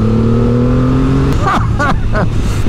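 Engine of a 2024 Triumph Rocket 3 R Storm motorcycle rumbling with a steady low drone that swells as the revs rise, close and loud, with a voice talking over it in the second half.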